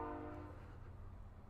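Train horn from a passing train, a loud sustained blast at the start that fades out into low rumbling, heard at a distance with no talk.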